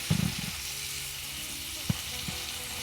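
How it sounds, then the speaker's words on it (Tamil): Onions or aromatics sautéing gently in a pan over low heat, a steady soft sizzle with a couple of sharp clinks of a spoon stirring against the pan. "கொஞ்சம் சிம்மில் வச்சு வைக்கட்டுமா? ம் கொஞ்சம் இது வதங்கட்டும்."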